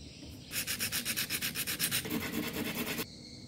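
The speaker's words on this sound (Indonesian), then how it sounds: "permukaan baterai juga akan saya haluskan menggunakan amplas tersebut" Close, rhythmic sanding with sandpaper on the surface of a LiFePO4 battery cell: quick back-and-forth rubbing strokes for about two and a half seconds, steady and fairly loud, then it stops.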